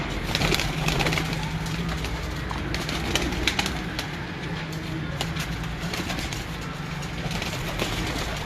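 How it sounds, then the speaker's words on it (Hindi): Kasuri jaldar breeder pigeons cooing in a loft, soft repeated low coos over a steady background hum with occasional faint rustles and bird sounds. "ये है जी माशाल्लाह जनाब उस्ताद अशरफ भट्टी साहब के मेन ब्रीडर कसूरी जालदार कबूतर।"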